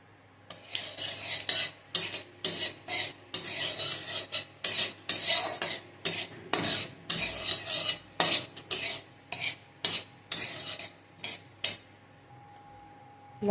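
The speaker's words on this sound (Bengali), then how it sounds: "তেলের মধ্যে দিয়ে দেব 5 ফোড়ন আর শুকনো লঙ্কা ফোড়ন" Five-spice seeds and dried red chillies fry in oil in a wok, a soft sizzle under repeated rhythmic scrapes of a metal spatula against the pan, about a dozen strokes close up with no talk.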